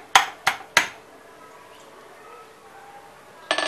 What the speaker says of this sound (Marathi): त्या मी टेचून घेते आहे सालेसहित